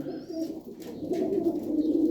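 Pigeons in an open coop coo steadily in a low, murmuring chorus, several birds close by with a few faint chirps above.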